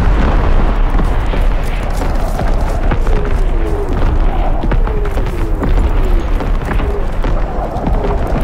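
Artillery strike in Call of Duty WWII: a continuous roar of heavy explosions and rumbling booms, loud and close, with whistling incoming shells sliding downward over the barrage throughout.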